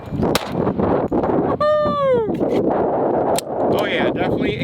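1911 pistol with a chunk-ported slide and red dot sight firing 230 grain .45 rounds outdoors: several sharp, loud close-range shots spaced irregularly, with wind buffeting and a voice briefly heard between them.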